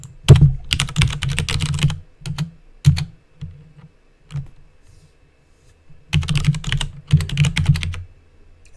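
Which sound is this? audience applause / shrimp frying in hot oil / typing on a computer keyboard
typing on a computer keyboard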